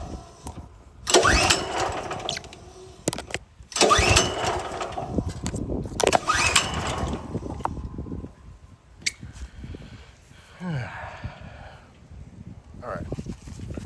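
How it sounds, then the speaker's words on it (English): A VEVOR 4400 psi gas pressure washer engine is pulled with choke on, catching in rough bursts, then settles into running as it sputters; a voice speaks between pulls. "turn the engine speed down a little bit."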